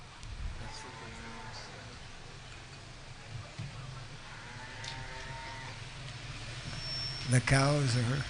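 Cattle mooing at a Vaishnava devotional celebration, a few drawn-out lowing calls rising over steady background chatter, with a louder, closer moo near the end.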